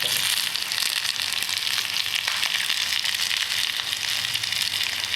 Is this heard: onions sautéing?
yes